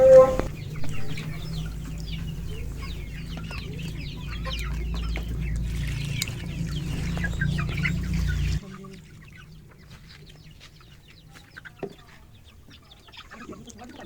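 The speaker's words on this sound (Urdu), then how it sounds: "ابھی تک تو سارے چوزے مل کے ہی کھا رہے تھے" Small chicks and bigger chickens feeding together, with steady clucking and chirping from the flock over low background noise that drops quieter partway through.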